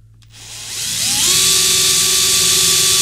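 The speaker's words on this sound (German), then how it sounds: "Man kann jetzt eigentlich entweder komplett gleich durchbohren oder man macht auch safe und bohrt richtig." A power drill bores through a model aircraft wing for a quick-release pin, spinning up with a rising whine that settles into a loud, steady high-pitched drone.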